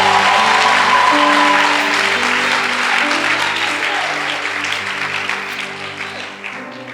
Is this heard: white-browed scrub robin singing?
no